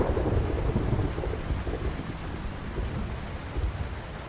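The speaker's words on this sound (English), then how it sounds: "I really don't want to have to fight in the rain," Rain and thunder in a video game, a dense steady downpour hissing over low rolling thunder rumbles that swell and fade throughout, with no speech.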